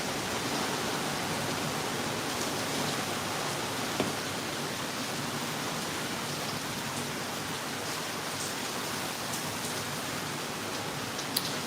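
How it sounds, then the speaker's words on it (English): Steady rain from Hurricane Ian falls in a soft, even hiss at Disney World, with an occasional faint drip or tap standing out against the constant wash. "Love the sound of the rain, very relaxing."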